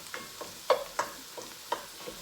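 Vegan mince frying in a pan and being turned, a faint low sizzle broken by several soft scraping clatters of a utensil stirring, spaced irregularly and close by.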